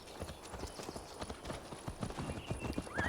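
Horse hooves clip-clopping in a steady rapid rhythm while riding through the world of Assassin's Creed Valhalla, close and continuous with no talk.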